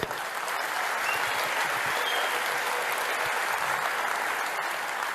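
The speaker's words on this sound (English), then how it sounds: "So a round of applause for the farmers." Sustained applause from an audience at a talk, a dense even wash of many hands clapping throughout, with no voices over it.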